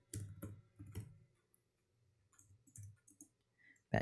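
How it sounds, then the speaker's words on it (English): Typing on a computer keyboard while coding, heard as sparse clusters of crisp key clicks with pauses between bursts and one sharper louder tap at the end. "I guess we are typing out all of these."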